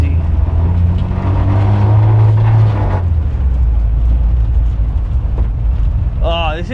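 Toyota-powered Volkswagen bus on a first drive, steady engine drone and road rumble heard from inside the cabin, loud throughout, with a brief higher whine near the end.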